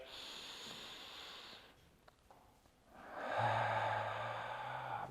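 Slow, deep breaths during a mobility stretch workout: a long airy exhale, a quiet pause, then a fuller inhale, close and alone.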